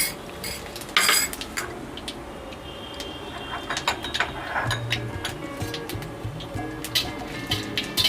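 Dried red chillies and cumin tempering in a pan while being stirred with a metal spoon, a run of sharp clinks and scraping clatter over a low background sizzle, close and uneven, no voices.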